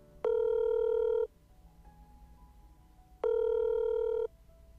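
A telephone ringback tone repeats for an unanswered call, two long electronic buzzes about a second each with a quiet gap between them, clear and alone.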